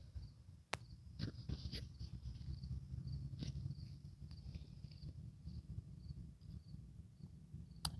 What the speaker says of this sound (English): Oh, it's a little cricket.